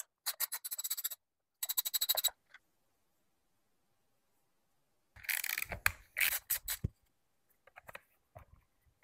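A screwdriver turns number 20 Torx screws out of a well-used Dewalt die grinder, close and quiet, in short bursts of rapid ratcheting clicks separated by silent pauses.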